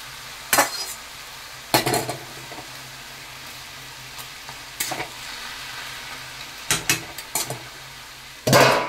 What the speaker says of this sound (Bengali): অনেকটাই মজে গেছে তাই কুমড়োটা এরপরে মাথাগুলি দিয়ে দেবো